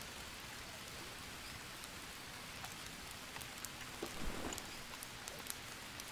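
Steady rain pattering on surfaces in the jungle survival game Green Hell, faint and continuous with scattered close drips and a few louder splashes, no voices.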